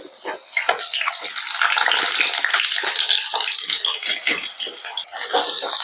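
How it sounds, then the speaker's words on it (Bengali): Ridge gourd pieces drop into hot mustard oil in a pan and set off a loud, continuous hiss and crackle of frying that lasts throughout, close up and with no talk. "এবার ঝিঙাগুলোকে দিয়ে দেব তেলের মধ্যে।"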